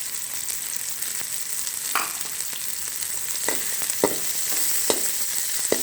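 Finely chopped onion sautéing in hot oil for chicken kabab, a steady close sizzle with occasional stirring clicks and spoon scrapes against the pan.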